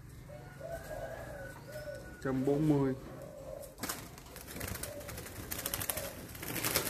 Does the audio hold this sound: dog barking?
no